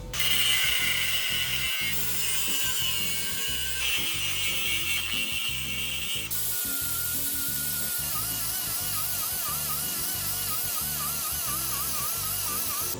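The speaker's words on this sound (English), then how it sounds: "Brand new parts. Straight to the grinder." A power grinder cuts continuously at high, steady pitch through brand-new crossover steering parts for a Squarebody truck, running loud and close without pause; the tone shifts partway through as the load on the disc changes.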